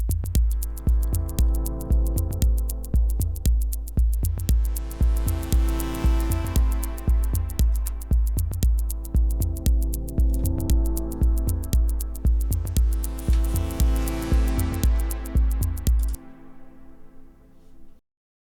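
Dub techno chords come from a Waldorf Iridium synth with tape delay, reverb and sidechain compression keyed to a kick drum. They pulse steadily over a thumping beat, then the beat stops and a short delay tail fades out.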